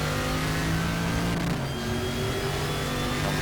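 A Group 5 Corvette at Monza in the RaceRoom racing game, its engine held high and bouncing off the rev limiter, then dropping briefly and climbing again, loud and steady throughout with no voices.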